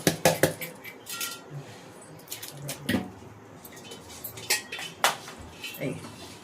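Rice for chicken biryani is stirred in a metal cooking pot, producing scattered clinks and scrapes of a utensil against the pot, some sharp and some softer, spaced irregularly with no talking.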